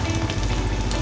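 Breadcrumb-coated potato and semolina fingers fry in hot oil, giving a steady, dense sizzle and crackle that fills the whole moment without pause or talk.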